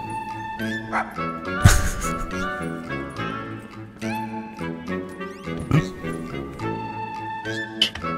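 A poodle serving as a police dog in a GTA 5 RP game session yips and barks in short, sharp bursts, with a jingle and game music underneath.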